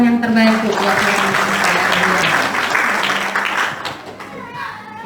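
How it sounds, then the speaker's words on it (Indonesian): Lively applause from a Christmas Day church congregation, dense clapping that fills the room and gradually thins out, mixed with voices and children's chatter underneath. "Sekali lagi berikan tepuk tangan yang terbaik buat Tuhan."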